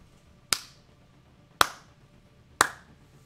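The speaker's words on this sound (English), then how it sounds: "and claps 3 times" Three sharp hand claps, evenly spaced about a second apart, close and crisp against near silence.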